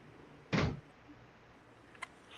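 A door closes with a single muffled thud indoors, followed a moment later by a small sharp click, both fairly faint against a quiet room.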